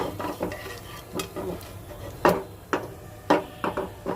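Nigella seeds frying in hot oil in a frying pan, a soft crackle broken by sharp utensil scrapes and taps against the pan, irregular and close.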